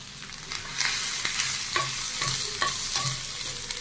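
Ground turmeric, cumin and coriander powder fry in a pan as a spoon stirs them, with a steady sizzle under rhythmic scraping strokes close up.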